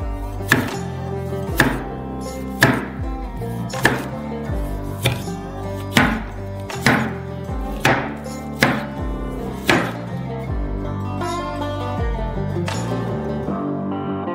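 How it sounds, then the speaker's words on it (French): A knife slices a lime into small rounds on a cutting board, with about a dozen crisp, evenly spaced chops close up, fading into quieter handling at the end. "Coupez-le en petites rondelles."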